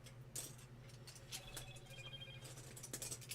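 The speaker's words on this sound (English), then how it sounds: "Notifications. Somebody messaged me on Instagram." A phone sounds an Instagram message notification, a brief set of tonal chimes under a faint steady hum.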